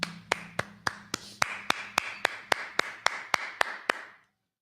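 A congregation at a Sabbath service claps in unison: about sixteen sharp, evenly spaced claps in a steady rhythm that stops abruptly, with no talking.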